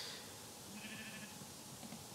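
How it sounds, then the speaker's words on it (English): Sheep bleating in Minecraft, a faint, distant call rising briefly in the middle over a quiet, hissy background, with no talking. "I can hear sheep around here, definitely"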